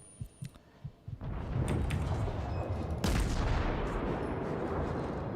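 Naval gunfire shells from battleships in World of Warships thunder in, starting with a few separate distant booms, then swelling into a loud, sustained roar of rumbling blasts and impacts.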